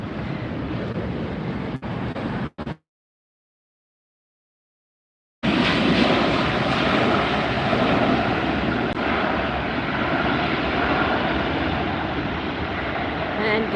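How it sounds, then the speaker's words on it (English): An Alaska Airlines 737 arriving and another jet departing at LAX, a broad, steady roar of jet engines and rushing air, loud and sustained, cut off by a few seconds of silence before resuming. "Here comes a nice arrival at the same time as a nice departure"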